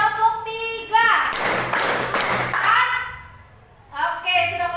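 A junior high school class in Indonesia claps together in a concentration clapping pattern, a dense burst of many hands lasting about two seconds, with a teacher talking before and after.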